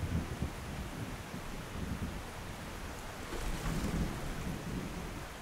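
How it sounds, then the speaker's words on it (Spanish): A thunderstorm over the ocean rumbles low and continuously under steady rain hiss, fairly faint and distant, with no voices. "Los relámpagos iluminan la inmensidad del lugar."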